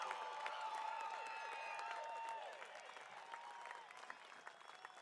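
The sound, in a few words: audience applause for graduates at commencement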